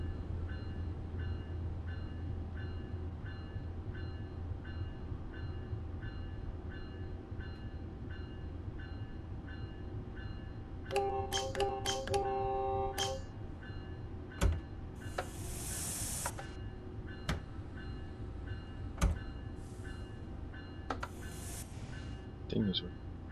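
Train in the Antelope Valley Line scenario of a PS4 train simulator pulling into a station, heard as a steady low rumble with repeated clicks and brief tonal chimes and knocks, holding at a constant moderate level throughout.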